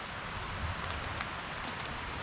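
Heavy rain falls steadily on a woodland campsite in the UK, a dense, even hiss of drops on leaves and tarp with a few sharper patters, continuous and fairly close with no talking.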